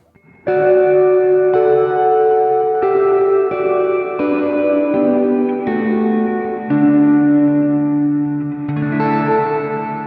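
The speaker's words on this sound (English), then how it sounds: "the church setting on the hall reverb seems to have some sort of bit crushing situation going on" Sustained electric guitar chords through a Sonicake Ambience pedal's church hall reverb setting, drenched in big reverb with a grainy, bit-crushed distortion, played alone and loud.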